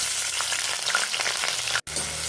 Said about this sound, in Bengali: নিয়ে এবার এর মধ্যে আলুগুলোকে একটু সুন্দর করে লাল লাল করে ভেজে নেব।